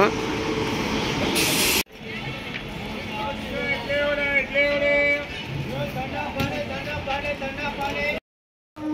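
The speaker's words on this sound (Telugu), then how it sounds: "కరెక్ట్గా ఇప్పుడే ట్రైన్ అయితే వచ్చిందనమాట" Train pulling in at a small station near Nellore, a steady rumble and hiss with squealing metallic brake tones rising and falling, loud and close, with a brief harsh burst early on and a voice talking over it.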